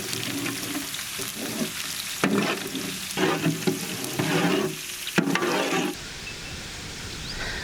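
Raw spices and finely chopped garlic fry in hot oil, a steady loud sizzle broken by bursts of stirring and scraping in the pan, with no talk.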